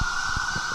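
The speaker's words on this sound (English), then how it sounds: "I think it's a fire truck, actually." Fire truck siren passing near Melrose on a game day, a loud sustained steady wail over low rumbling bursts of traffic, with no talking.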